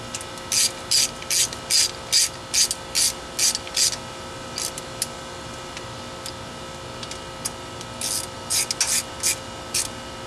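Hand ratchet tightening intake manifold bolts on a 1972 Chevy Nova small block, two bursts of rapid clicking strokes, close and crisp, separated by a quiet pause.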